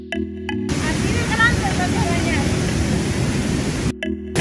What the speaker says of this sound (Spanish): al ladito del búnker tenemos esta cascada tan bonita